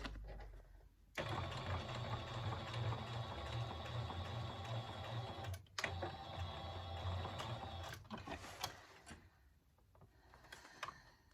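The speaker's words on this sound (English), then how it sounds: "Sew over it again. So just back stitching to start." A sewing machine back stitching on a tote bag runs in close, rapid bursts, stopping briefly twice between runs, then trails off into quieter clicks and handling sounds.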